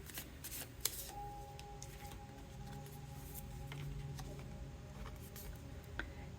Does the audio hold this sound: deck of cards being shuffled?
yes